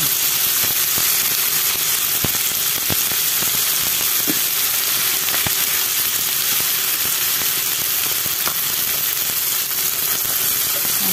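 Garlic sizzling in a hot frying pan while cooking ginataang bangus, a loud steady crackling hiss that runs throughout with occasional sharper pops and no talking.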